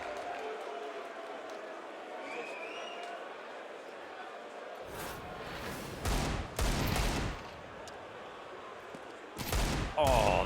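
Desert Eagle pistol shots in Counter-Strike 2, several sharp, loud single reports in a competitive match, spaced irregularly over a steady background of crowd and commentator talk.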